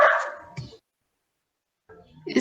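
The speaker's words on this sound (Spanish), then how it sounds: "Calla al perrito." A neighbour's dogs bark in short bursts at the start and again near the end, with a silent gap between them, fairly close and moderately loud.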